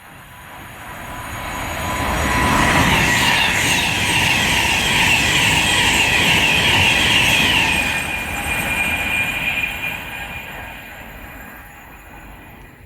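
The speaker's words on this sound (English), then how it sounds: "approaching now, we have our first Class 66 of the day" A Class 66 diesel locomotive hauling a train on the West Coast Main Line at Hartford builds into a loud, steady rumble with high metallic wheel tones, holds for several seconds, then gradually eases off.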